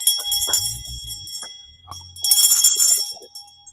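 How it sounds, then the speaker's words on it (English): A small bell rings in several bright, ringing bursts, the loudest near the start and end, over low faint background sounds with no speech. "I don't know if my bell is ringing loud enough"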